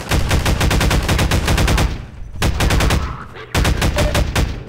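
Rapid automatic gunfire from a weapon in the video game Half-Life 2, loud close bursts of evenly spaced shots with a short break between volleys and no talk.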